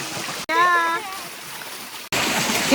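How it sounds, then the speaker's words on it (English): A person jumps into deep water at a waterfall, a sudden splash after a voice calls out, then rushing water, with another burst of splashing at the end. "He jumped into the water."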